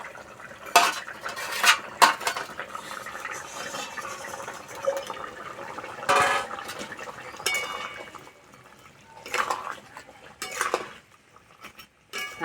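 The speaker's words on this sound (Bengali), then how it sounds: "আলু সিদ্ধ হয়ে গেছে, ভেজে রাখা মাছ দিয়ে দেবো।" A ladle stirs fried fish into a pot of boiled potato curry, giving irregular metallic scrapes and clinks against the pan with soft liquid sloshing between them, close and fairly quiet.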